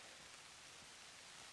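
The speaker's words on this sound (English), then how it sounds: "That's the sound of bloody rain." Steady rain falls on a West Virginia hiking trail, a dense continuous hiss of drops close around with no other sounds and no talking.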